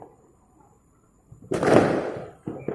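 Firecrackers going off on New Year's Eve in Bandung: after a quiet stretch of faint background noise, a loud, sharp burst erupts and trails off in a long crackling wash, followed by another nearby bang.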